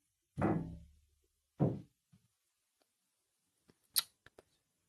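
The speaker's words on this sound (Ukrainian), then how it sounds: "Стукають по батареям ненормально." Knocking on radiators in an apartment: two loud resonant metallic bangs ring out, followed a few seconds later by several fainter, sharper taps, with no voices.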